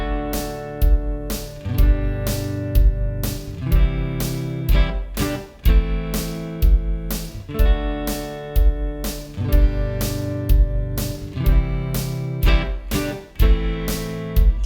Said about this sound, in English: So again, with open chords, it would still sound just as cool